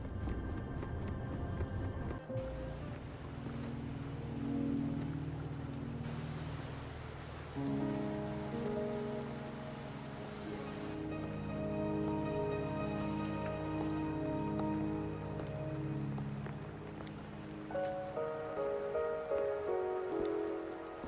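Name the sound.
rain falling in the video game Wuthering Waves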